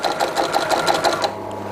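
Leather sewing machine with a straight flat bed runs a line of stitches in a quick, even rhythm of needle strokes, then stops and leaves only a low hum; no talk over it.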